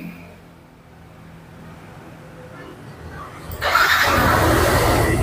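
A Yamaha NMAX scooter engine starts, a sudden broadband burst of starter and ignition noise that settles into a steady running roar after a quiet lead-in.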